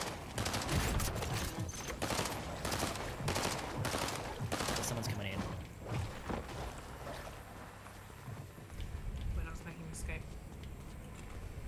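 Video game gunfire in a stream, a dense fusillade of rapid shots and bursts dominating the first half, then thinning to scattered pops under ambient noise.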